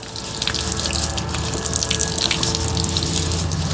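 Water runs from an outdoor spigot while hands are scrubbed with soap, a close, steady splashing gush with a faint underlying hum and no talking.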